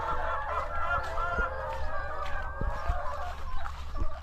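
Farm ducks, white ones among them, quacking and honking in a busy overlapping chorus, near and fairly loud, with a few sharp knocks over a steady low hum.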